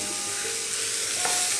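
Chopped banana stem with green chillies hisses steadily in a hot pan, a continuous close sizzle with a faint stirring scrape, no voices.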